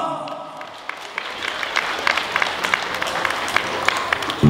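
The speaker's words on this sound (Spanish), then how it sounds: "¡Un fuerte aplauso!" Audience applause at a quinceañera celebration in Greenfield, California, a moderate wash of clapping from guests that builds and stays steady, with scattered distinct claps and some crowd murmur beneath.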